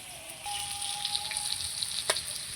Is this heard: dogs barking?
no